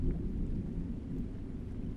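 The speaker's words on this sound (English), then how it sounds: "Thunder roared in the distance as lightning struck." Distant thunder from a storm rumbles steadily and low throughout, a continuous roar with light wind and rain noise blended in and no voices.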